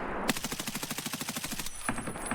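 Video game automatic gunfire as a full magazine is dumped: a fast, evenly spaced burst of about eighteen shots, a brief pause, then a few more rounds.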